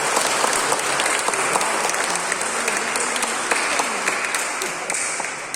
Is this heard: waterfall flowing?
no